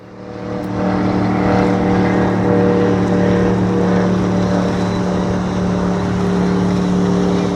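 A sailboat's electric motor hums steadily with strong low tonal harmonics, running continuously at close range, loud and even throughout.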